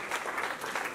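Applause from guests at a 2018 wedding celebration, a steady dense burst of clapping filling the whole moment at moderate loudness, with no voices standing out.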